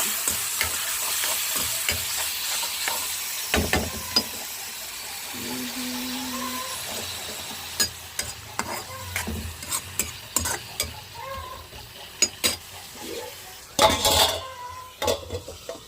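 Ginger garlic paste frying and being stirred in a pan with tomatoes in a home kitchen, giving a steady sizzle with repeated sharp scrapes and clinks of a spoon against the metal vessel, close and fairly loud.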